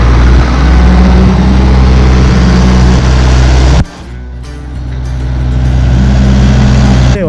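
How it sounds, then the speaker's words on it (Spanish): A loud tractor engine roars and strains, dropping briefly before revving back up as the wheels slip and churn in muddy ground on a dairy farm. "El terreno está un poco fangoso, por eso el tractor está patinando"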